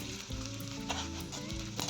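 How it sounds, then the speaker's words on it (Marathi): Steady sizzling of edible gum frying in hot ghee, with a low tonal hum and occasional clinks running underneath. "आता त्यामध्ये डिंक टाकूया तळण्यासाठी तूप गरम झालेलं आहे आपल्याला डिंक तळून घ्यायचा"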